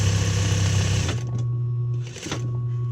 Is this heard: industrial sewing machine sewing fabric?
yes